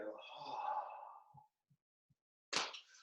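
A forceful, breathy exhale during a Shaolin breathing exercise, one long audible breath out followed by quiet taps and then a sharp burst of breath near the end.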